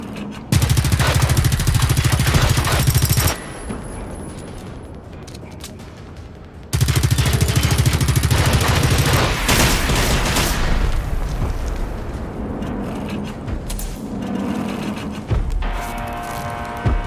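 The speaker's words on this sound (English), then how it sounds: "Just go in guns blazing." Gunfire and explosions in the video game Generation Zero: loud, dense bursts of automatic fire and booming blasts, with brief lulls where the barrage drops to a quieter rumble before it resumes.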